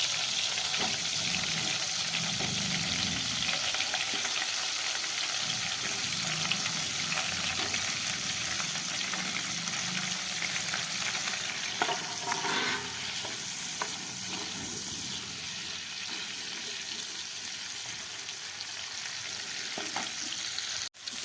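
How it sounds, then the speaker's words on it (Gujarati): Eggplants frying in melted butter in a pan give a steady, close sizzle throughout, with occasional stirring scrapes and no talking. "તો આપણા રીંગણા હવે બટરમાં સરસ મજાના શેકાઈ ગયા છે"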